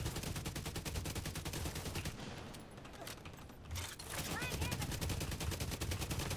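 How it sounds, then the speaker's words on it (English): Dense, rapid automatic gunfire rattles continuously in the video game The Division 2, briefly thinning in the middle before resuming loud and close, with some voice mixed in. "Who's shooting at me?"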